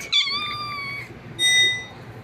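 A cat meows twice in the video game Cats are Liquid, a drawn-out high call followed by a shorter one after a pause, both clear and close over a faint game background with no talk.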